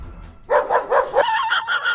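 A dog barks in a quick series of several loud, close barks that run into higher yips, with no one talking.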